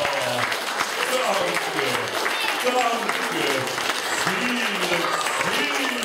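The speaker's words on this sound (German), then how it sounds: "Dann dürft ihr jetzt mal ein bisschen für mich klatschen." Children clapping at the end of a marionette theatre play, steady dense applause mixed with a voice talking over it and some children's voices, fairly close and continuous.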